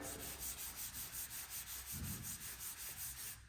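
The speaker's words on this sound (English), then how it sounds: "you can hear all of that dirt and grit still in the paint" Clay bar rubbing over gritty, contaminated car paint on a trunk lid, a close, steady rasping scrub in quick regular back-and-forth strokes, faint and with no talking.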